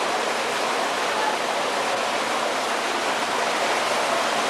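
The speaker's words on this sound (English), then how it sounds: "You hear the constant sound of the water running in the hatchery." Constant rushing water runs through a walleye fish hatchery with holding tanks, a steady, dense, broadband wash like a small waterfall that holds at an even level throughout, with no voices over it.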